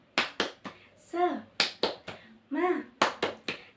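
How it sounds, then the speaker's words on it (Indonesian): Schoolchildren in a kindergarten classroom do a rhythmic clap chant led by their teacher: sharp, close claps in quick groups of three, alternating with short sung or chanted calls, repeating the same pattern twice. "kita tepuk semangat terlebih dahulu ya anak-anak"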